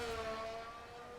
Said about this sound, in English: So do let me know if you can hear the cars